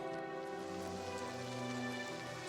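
Steady rain falls in Oblivion Remastered, a dense, even hiss that lasts throughout, with soft tonal game sounds running beneath it.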